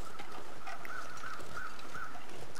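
A crow caws repeatedly in The Long Dark video game, several evenly spaced harsh calls carried over a windy outdoor backdrop, at middle distance.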